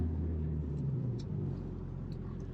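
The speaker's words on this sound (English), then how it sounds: "let's go for a drive in a 700 wheel horsepower power glide car" A 700 wheel horsepower drag car with a Powerglide transmission rumbles as it drives, a low, fairly faint engine drone easing off after about a second, with no voices.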